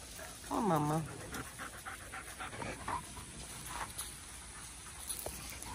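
Several dogs pant rapidly with soft pattering and a brief whimper, close by at a quiet level, while a person talks to them.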